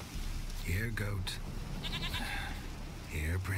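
A goat bleats in The Witcher 3, two loud, wavering cries close by, the first near the start and the second at the end, while someone speaks in between.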